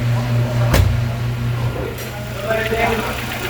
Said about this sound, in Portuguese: Barulhozinho do motor filé, macio, tá?